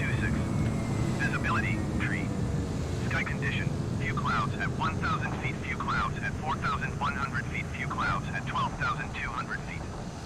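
In Microsoft Flight Simulator, an airliner passes overhead with a steady, loud jet-engine roar that slowly eases, while a voice talks over it.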